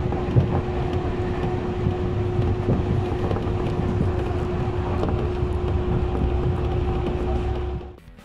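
A Tobu 50050 series commuter train runs with a steady, low rumble, a constant hum and faint rattles, droning evenly before quickly fading out at the end.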